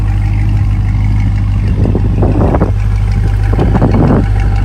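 A 2020 Chevrolet Corvette C8 running just before shutdown, a loud, close, steady low engine rumble with a couple of brief swells in the middle and no talking.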